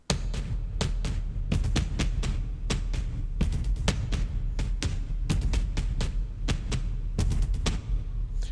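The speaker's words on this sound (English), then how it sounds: "this is just a giant patch full of all the organic drums on the patch" Heavily distorted drums from a library patch of organic drums play a steady, driving pattern of punchy hits over a thick, saturated low-end rumble, loud and continuous.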